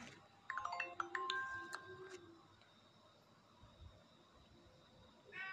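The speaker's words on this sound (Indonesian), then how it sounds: "Udah, mau angkat dulu ya teleponnya." Cartoon telephone ringtone plays a bright, quick run of chiming electronic notes. Several chirpy tones ring out together for about two seconds, then the line falls to quiet room hiss, with a faint new tone starting near the end.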